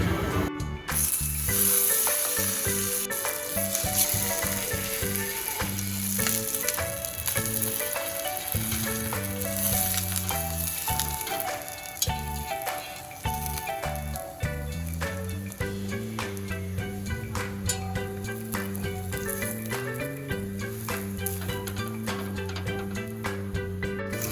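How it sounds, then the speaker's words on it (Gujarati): Dabeli being toasted in a pan, a steady sizzle running for the whole stretch beneath louder melodic background music. "તો હવે આવી બીજી દાબેલી પણ શેકી લઈશું"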